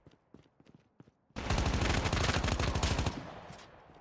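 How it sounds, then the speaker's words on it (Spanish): Sustained automatic gunfire in Call of Duty Mobile bursts in loud and close after a second of quiet with faint taps. It continues as a dense rapid stream for about two seconds, then thins and fades. "Alguien me está disparando, me ha dado"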